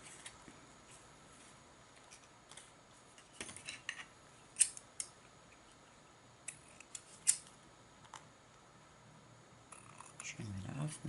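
Scissors snip the ends of a tied half knot of string during a clockmaking job, giving a few faint, brief cuts under quiet room tone.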